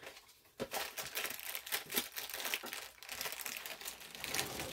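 A plastic package of biscuit mix crinkles and crackles as it is worked open with scissors, loud and close in irregular bursts, with no talking.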